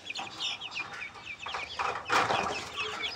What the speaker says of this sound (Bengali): চোখ শখ করানোর আগে দেখো মুরগিগুলো আগে ছেড়ে দেয়।